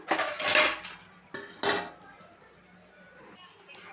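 A metal lid clanks onto a cooking pot of brinjal curry (oil eggplant curry) in a home kitchen, with two or three close metallic knocks followed by a quiet room.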